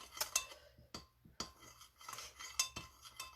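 A utensil stirring frosting for chocolate cake and carrot cake in a bowl, close and fairly quiet, with irregular scraping strokes and clinks against the bowl and short pauses between them.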